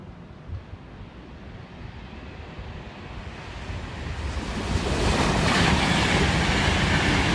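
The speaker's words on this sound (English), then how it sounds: "now passing is another Pendolino Virgin Trains" A Virgin Trains Pendolino passes through Watford Junction on the West Coast Main Line, a broad rushing roar that builds steadily and grows loudest toward the end, with no voices.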